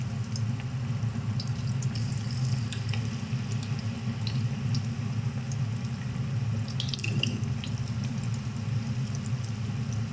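Cabbage pakoras drop into hot oil and fry, a continuous soft sizzle with scattered crackles and pops over a low steady hum.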